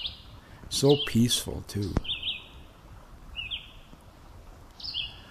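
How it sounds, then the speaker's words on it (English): A sparrow by a spring riverbank gives a few short, high, thin chirps spaced apart, fairly faint and outdoors, following a brief stretch where someone speaks. "this little chirping sparrow"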